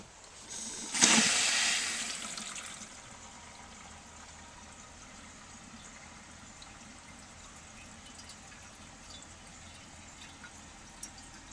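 A 1967 Borg Warner Chase siphon jet toilet flushes with a loud rushing surge lasting a second or two, then settles into a quieter, steady hiss of water as the bowl refills from the rim jets.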